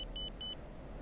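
A high-pitched warning tone beeps three times in quick succession inside an F-16 cockpit in the DCS flight simulator, loud over a steady low engine rumble.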